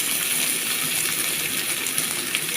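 Chopped onion hits hot oil in a pan, giving a steady, bright crackling sizzle at close range with no pauses, while bottle gourd and pangas fish curry is being cooked.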